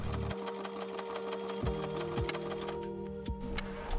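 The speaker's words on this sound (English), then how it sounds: "So I just folded that to the inside and top stitched using a wide zigzag stitch." A domestic sewing machine runs a wide zigzag topstitch on an activewear top, its rapid mechanical needle rattle steady and close, pausing briefly before starting again.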